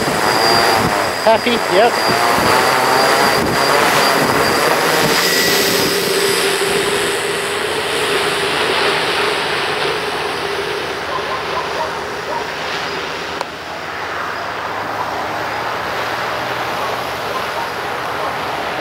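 An RCExplorer-based V-tail quadcopter running MultiWii with GPS throttles its motors up in flight, giving a steady, loud buzzing whine that stays constant throughout, with someone speaking briefly over it near the start.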